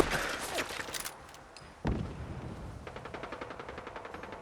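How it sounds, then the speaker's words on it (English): Gunfire in modded Fallout 4 on survival mode: sharp shots around the first second and near the two-second mark, then a fast run of rapid repeated bursts like automatic fire, fairly loud against a quiet game backdrop. "Who's shooting?"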